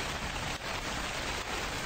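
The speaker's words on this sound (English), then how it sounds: "The rain is so loud." Heavy rain pours in a steady, even hiss in a convenience-store horror game, a brief unbroken wash of falling drops with no voices.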